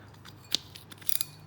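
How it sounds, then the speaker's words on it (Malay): A Gtech Saltis Game 4500PG spinning reel, opened up for inspection, gives a few short, sharp drag clicks, close and fairly faint, with a quick burst of ratcheting near the end. "Dengar tu drag dia garang jugalah."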